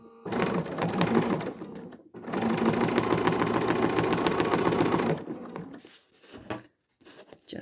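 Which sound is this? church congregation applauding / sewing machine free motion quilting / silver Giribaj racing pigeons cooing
sewing machine free motion quilting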